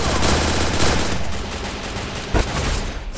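Dense, continuous bursts of automatic gunfire and rapid shots from a Free Fire mobile shooter match, loud and sustained throughout with no pauses.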